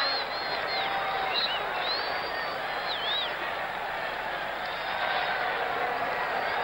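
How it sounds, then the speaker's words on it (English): A large crowd in Philadelphia cheers after a goal in a USA versus England Bicentennial Cup soccer match, a steady distant roar with scattered whistles rising above it. "that's cheered up the crowd in Philadelphia"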